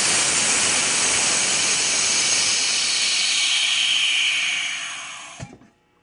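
A vacuum pump degassing a batch of epoxy gives a loud, steady broadband hiss that holds for about five seconds, then winds down and stops with a brief clunk at the end.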